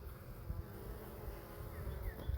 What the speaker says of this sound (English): So right there is a bee coming out.